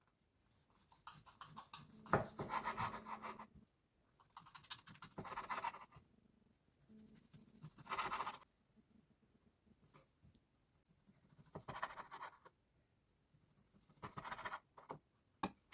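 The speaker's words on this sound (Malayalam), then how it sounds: "അപ്പം നമുക്ക് ബീഫ് കട്ട് ചെയ്തെടുക്കാം." A knife cuts through cooked beef in a series of separate, quiet scraping and tapping bursts spaced a few seconds apart, close by, with near silence in between.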